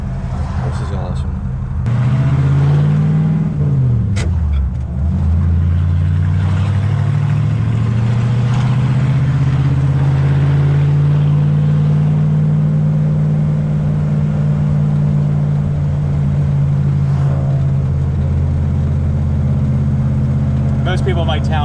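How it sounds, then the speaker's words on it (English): Antique hot rod car engine rumbling close and steady while driving, with a quick rev that dips and rises early on, then a sustained low drone as the car cruises along. "they always see me driving like antique cars like this"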